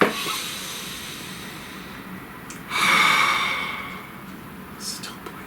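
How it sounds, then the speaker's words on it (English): A single deep breath, a soft breathy inhale swelling up near the middle and easing off, with a faint short hiss of air afterward, close and quiet. "Please take a nice deep breath"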